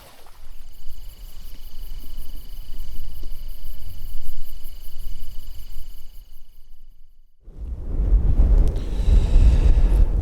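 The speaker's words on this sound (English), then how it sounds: "As you can tell, it's a bit of a breezy one right now." Wind gusting outdoors on a breezy morning at a public-land deer hunting spot, a steady rumble of buffeting against the microphone that drops briefly, then returns louder and fuller.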